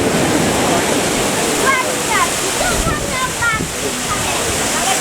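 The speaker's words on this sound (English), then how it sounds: "Tintagel waterfall." Tintagel waterfall in Cornwall, a steady loud rush of falling water at close range filling the whole stretch, with voices talking over it and a few faint bird chirps.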